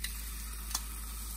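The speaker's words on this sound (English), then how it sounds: "Love that sizzle." Pork chops sizzle in a hot frying pan on a stovetop, a steady, soft hiss of frying with one brief crackle partway through and no talking.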